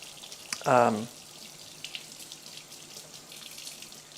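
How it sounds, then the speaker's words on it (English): A wooden spatula rinsed under a running kitchen tap gives a short, loud half-second gush of water, followed by a quiet room with faint background hum. "so I'm going to rinse it off"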